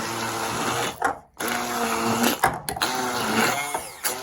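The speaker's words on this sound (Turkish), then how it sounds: "ben de kabakları blenderda püre haline getireceğim" A blender purees pumpkin, whirring loudly and continuously, briefly cutting out twice before roaring back up to full speed.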